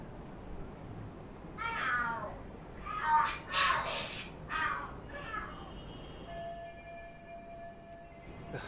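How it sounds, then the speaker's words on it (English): Cats fight in Lost Judgment, letting out a run of loud, drawn-out yowls and screeches over several seconds, followed by faint game tones and ambient noise. "Are there cats fighting?"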